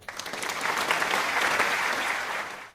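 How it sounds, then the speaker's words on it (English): Classroom applause for a student named Sarah during a microteaching lesson: a quick swell of many hands clapping close by, a few sharp early claps building to a full patter, then fading out after a couple of seconds. "Give a round of applause for Sarah"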